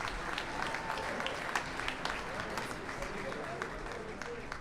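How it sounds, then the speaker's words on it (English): A crowd at an awards show applauds in a quiet, steady patter of clapping with a low background murmur, a few nearer claps standing out. "Let's give him a round of applause, please."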